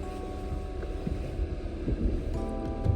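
A Ford Mustang with a replaced clutch sets off on a test drive, with a low engine hum and throbbing cabin rumble and faint wind noise over three seconds, and no talk.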